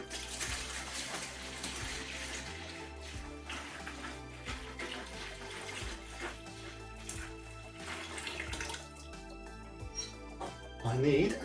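Beer wort for a raspberry wheat brew pours in a steady gushing, splashing stream into a fermenter, continuous throughout and swelling louder at the end.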